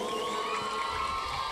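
A school audience at a ganamela music show cheers and claps together in a loud continuous burst of crowd noise.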